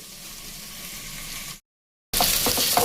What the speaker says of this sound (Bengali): যতক্ষণ এটাকে ভাজা হবে ততক্ষণই আমি এটাকে একটুখানি এইভাবে ভেজে নেব।